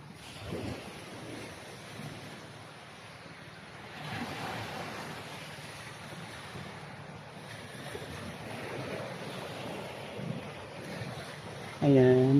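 Steady, rushing surf noise of waves breaking on a beach on Jomalig Island, Philippines, with gusty wind across the microphone and a brief louder burst at the end.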